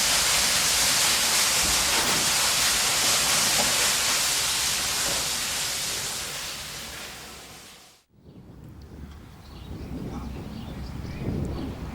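Manx steam locomotive Kissack being run back into the shed on the Isle of Man railway gives a loud, continuous hiss of steam for about eight seconds. The hiss cuts off abruptly, then a quieter rumbling and clanking follows.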